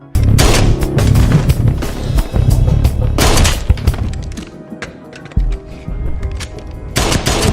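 A film scene erupts in loud, close gunfire: dense bursts of rapid shots and booming impacts, with a brief lull in the middle before another heavy volley at the end.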